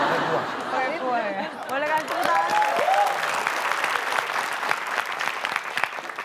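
Studio audience applause on an Indonesian television game show, steady clapping under a lively hubbub, with voices and some cheering over the first few seconds.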